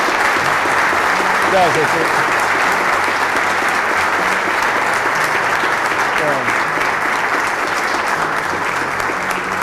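Sustained applause fills a hall after a talk, loud and steady throughout, while a voice speaks briefly over the clapping.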